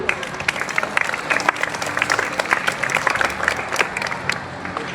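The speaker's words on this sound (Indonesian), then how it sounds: "Bawa minta tepuk tangan dulu, kita apresiasi" Assembled students at a Monday school flag ceremony clap together in steady, sustained applause, many hands patting at once with a bright, crackling texture throughout.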